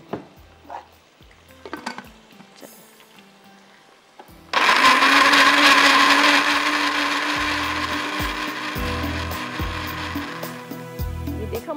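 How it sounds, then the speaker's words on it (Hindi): An electric grinder blending fish masala with water for a methi dana fish recipe: quiet handling clicks, then the motor kicks in abruptly with a loud, steady whirring roar that slowly eases in pitch while the blade churns the paste. "कितना शार्प इसका ब्लेड है, ऐसे सेकंडों में ये जो है ना पीस देता है।"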